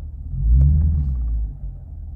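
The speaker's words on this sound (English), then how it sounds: "I do that by just slow, or, you know, just tapping the accelerator." Lexus IS F engine rumbling low as the accelerator is lightly tapped before a launch, one swelling burst of revs settling back to a steady idle, close and alone.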